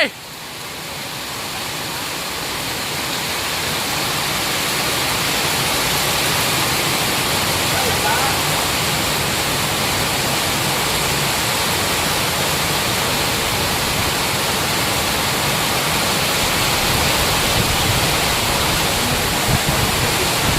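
Heavy rain pours steadily at an outdoor construction site for a parking lot, a dense, loud, continuous hiss that swells over the first few seconds and then holds evenly throughout.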